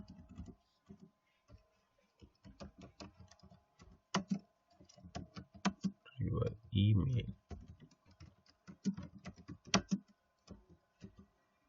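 Keys clatter on a computer keyboard as text is entered into a Visual Basic label caption, with irregular close clicks arriving in quick bursts and someone talking briefly partway through.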